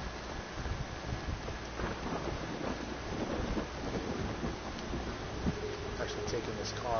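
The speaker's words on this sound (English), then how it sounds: "Thunderstorm time." Steady rain with low rumbles of thunder in the video game Far Cry 3, moderately faint, with brief sharper sounds near the end.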